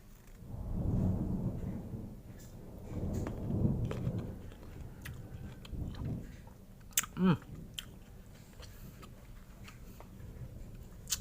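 Someone crunches crystal guava rujak, a fruit salad from Bali, in close, repeated bites, with three heavy crunching bursts early on and lighter chewing and clicks after.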